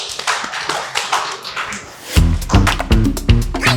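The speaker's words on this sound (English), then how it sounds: "let's give her a round of applause" Applause for a winning contestant on a maths game show, a lighter patter of claps at first swelling into a louder, denser burst of clapping from the studio audience.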